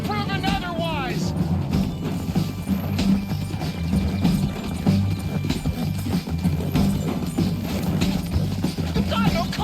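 In Red Dead Redemption 2, a horse gallops with a rapid clip-clop and a brief whinny near the start, amid busy game noise and talk.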